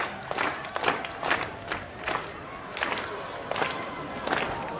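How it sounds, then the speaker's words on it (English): A crowd cheers in a WWE 2K wrestling video game, a dense roar of arena noise with repeated surging swells and chanting-like bursts, continuous and fairly loud throughout. "The crowd here in attendance, they're into it."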